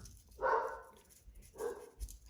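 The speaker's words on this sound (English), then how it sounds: "My dog." A dog barks twice in a short gap between talk, two fairly loud, separate woofs close by with quiet between them.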